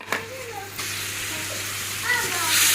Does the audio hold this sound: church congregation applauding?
no